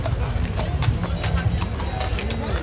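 The hooves of a Percheron draft horse clip-clop in a steady, continuous rhythm at moderate distance beneath a low rumbling background.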